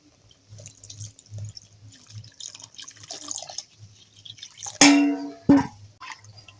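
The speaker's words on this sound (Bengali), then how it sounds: "এবার আমি জল দিয়ে দেবো" Water poured into a pot of mashed red lentil dal, a short splashing pour near the end after quiet kitchen sounds and faint dripping, close and fairly loud.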